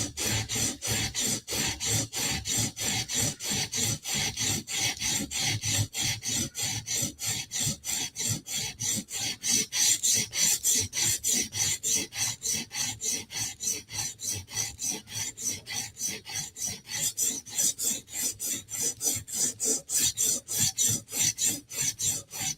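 A Spyderco knife blade is drawn over a sharpener in a steady, rapid series of rasping strokes, close and even in rhythm, with no talk.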